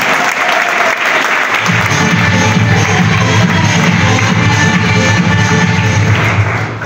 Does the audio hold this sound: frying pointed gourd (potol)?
no